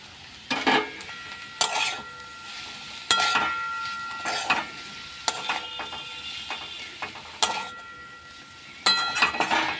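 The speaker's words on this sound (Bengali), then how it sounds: "এবার আমি এর মধ্যে ভেজে রাখা বেগুনগুলো দিয়ে দেবো।" Fried eggplant is tossed into a pan of sizzling betho greens, with a constant frying hiss punctuated by repeated sharp clinks and scrapes of a spatula against the pan, and no talk.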